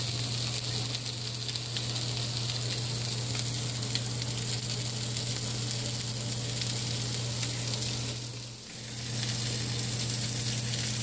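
Sausage sizzles in a pan during a breakfast of waffles and sausage, a steady, faint hissing crackle with a constant low hum beneath and a brief dip near the end, no talking.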